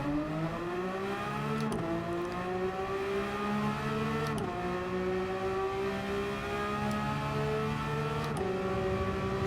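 A race car engine in Gran Turismo 7, heard from the cockpit, drones loud and close, its pitch climbing steadily through each gear before dropping sharply at three upshifts, with no talking.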